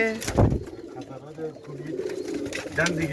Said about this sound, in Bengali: কবুতরের বাচ্চা